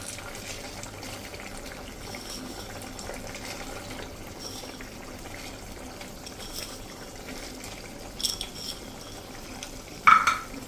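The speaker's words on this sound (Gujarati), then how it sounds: "તો હવે આ સ્ટેજે આપણે જ્યાં રતલામી સેવ મેં લીધી છે 1 કપ જેવી એને નાખી દેશું." Ratlami sev is tipped into hot tempering for a Gujarati sev curry, with a low, continuous sizzle and stirring in a pan, a few spoon clinks, and a sharper scrape near the end, heard close with no talk.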